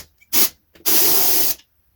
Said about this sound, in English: So the harder you press, it will release more steam.